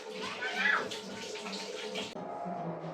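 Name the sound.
washing slices in water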